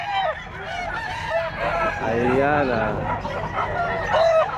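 A three-year-old rooster crows at a Calumpit pet market. The call is loud and drawn out, with other fowl clucking nearby and people talking over the busy market background.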